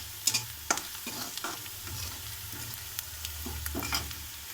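Ginger garlic paste and turmeric sizzle in hot oil in a frying pan while being stirred for aloo paratha filling, a steady close fry with several sharp scraping clicks and no talk.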